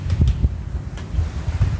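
Gusty wind buffets the microphone with low rumbling bursts, steady and close, with a faint wash like surf behind it.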